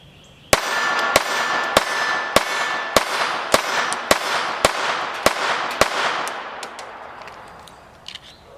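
A Walther PPK/S .22 LR pistol fires Winchester M22 40 grain bulk ammunition in a reliability test, with about nine sharp, evenly spaced close shots about half a second apart, each ringing briefly before the next.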